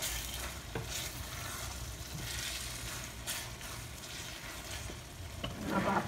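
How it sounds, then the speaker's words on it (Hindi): Minced meat qeema fries in a pan with a splash of water, giving a steady, fairly quiet sizzle with occasional stirring scrapes and a brief rise at the end. "हल्के हल्का पानी का छट्टा देके आपने कीमे को अच्छी तरह भूनना है"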